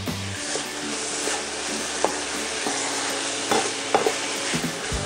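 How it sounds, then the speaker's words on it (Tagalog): Ground pork and garlic sautéing in a pan for pork giniling with oyster sauce, a close continuous sizzle with sharp spatula scrapes and taps coming at irregular intervals, and no talking. "Continue lang natin hanggang sa maging golden brown yung ating giniling"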